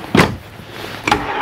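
Wood drawers in a 2020 Tiffin Allegro Breeze 31BR RV slide shut on metal glides, two short soft closing thuds with a brief whoosh, close and alone.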